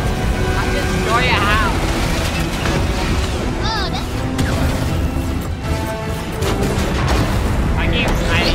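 Loud game-world crashes and booming destruction as a house is blown apart in Fortnite during a collision event, dense and continuous with bursts of impact noise, while players talk excitedly over it.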